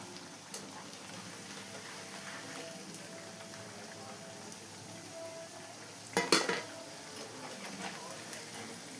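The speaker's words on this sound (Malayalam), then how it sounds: "ഇനി നമുക്ക് ഓരോന്നായിട്ട് എണ്ണയിൽ നിന്ന് മാറ്റാം" Papad vada fritters are lifted one by one from frying oil: a faint background sizzle with scattered light utensil clinks and a sharper metal clatter partway through, all quite soft and close.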